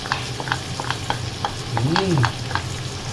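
Pork is stirred into sautéed onion and ginger in a hot pan, giving a close, busy sizzle with repeated spoon scrapes and clinks against the pan.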